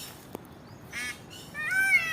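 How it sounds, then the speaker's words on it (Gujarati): A few short peacock calls ring out over quiet surroundings, a brief call followed by a louder, drawn-out cry near the end. "મોરનો અવાજ એકદમ ક્લિયરિટીવાળો આવશે"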